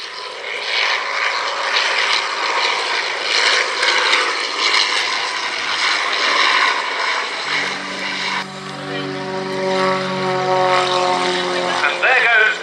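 Edwardian propeller aircraft flying at the Shuttleworth airshow, a loud droning engine passing close and steady, with a second model aircraft engine buzzing in over it near the end.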